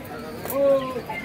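A brief single pigeon coo rises over the murmur of a busy Bangladeshi bird market, with a short-faced pigeon caged nearby; faint background chatter surrounds it.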